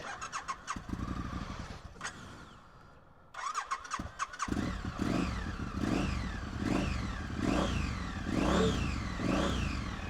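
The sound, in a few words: Triumph Street Scrambler motorcycle exhaust revving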